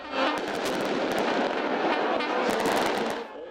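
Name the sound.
skyrocket fireworks set off by protesters in a crowd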